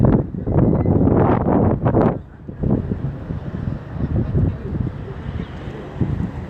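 Gusty wind buffets the microphone with loud, low rumbling roars that rise and fall, dipping briefly before continuing at a slightly lower level.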